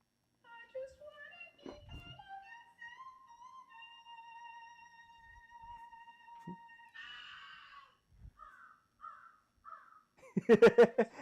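A crow caws in short bursts that end in a loud, harsh run of calls, with sparse faint sounds in the gaps of a mostly quiet scene.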